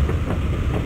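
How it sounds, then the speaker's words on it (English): A cartoon train rolling along its rails, a steady low rumble with a soft rhythmic clatter, close and continuous with no voices. "This train stops at the National Observatory."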